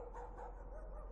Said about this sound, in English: Ah, a dog.